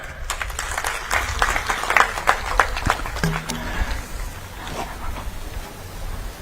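A crowd at a community felicitation ceremony claps for the chief minister's call to applaud Narendra Modi, scattered sharp claps swelling into a brief burst, then thinning into a low crowd murmur.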